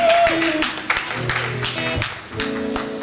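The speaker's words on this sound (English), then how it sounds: "Another round of applause for Mr." Clapping from a live show crowd at a Chelsea Best Buy in-store performance, brisk taps in a steady patter mixed with sustained musical tones from the band.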